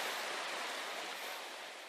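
Changbai waterfall on Mount Paektu, a steady broadband roar of falling water, loud and continuous for two seconds with no voices.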